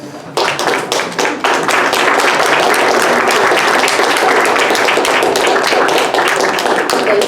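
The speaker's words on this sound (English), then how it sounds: "give applause to your village who had to raise you" An audience stands and applauds at a 2017 baccalaureate ceremony held by the San Mateo Black Parents Association, with loud, dense clapping starting abruptly and continuing steadily throughout.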